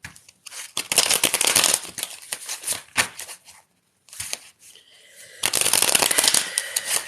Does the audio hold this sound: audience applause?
no